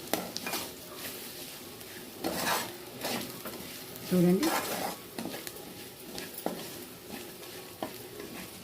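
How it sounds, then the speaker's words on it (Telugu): Turmeric and fine salt being stirred into a frying tempering in a pan, with a soft continuous sizzle under scraping stirs and a few louder utensil knocks; a brief spoken word. "పసుపు వేసుకొని సన్నుప్పు వేసుకున్న తర్వాత మంచిగా కలపాలి పోపు."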